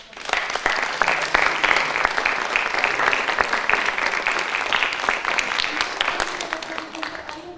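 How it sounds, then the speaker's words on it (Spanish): An audience applauds a woman being honored, a loud, dense burst of clapping that builds quickly and holds steady, with voices faintly mixed in and tapering slightly toward the end. "Recíbalo y otro aplauso para la señora."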